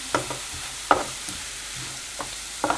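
A spinach and mushroom pakora mixture with chilies and crushed garlic is stirred in a pan, giving a few soft scraping strokes over a faint, steady sizzle, close and quiet.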